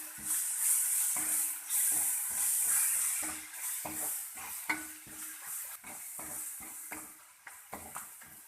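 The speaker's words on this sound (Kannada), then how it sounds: "ಹಾಕಿ ಎಲ್ಲ ಚೆನ್ನಾಗಿ ಮಿಕ್ಸ್ ಮಾಡ್ಕೊಳ್ಳಿ." A spoon stirring pav bhaji masala, chili powder and turmeric through sizzling egg bhurji base in a pan, steady frying hiss under repeated scraping strokes, close and rhythmic.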